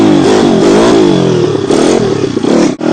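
Dirt bike motorcycle pulling hard in second gear, its engine revving up and climbing in pitch with a loud, close, buzzing drone and a brief dip near the end.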